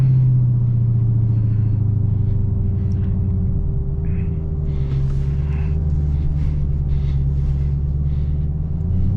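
Dodge Hellcat Charger launching with wheelspin, a loud deep engine roar that holds and shifts pitch, with tire noise and hiss rising midway.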